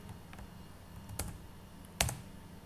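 A few sparse computer keyboard keystrokes, quiet and close, with two sharper clicks standing out over faint room noise.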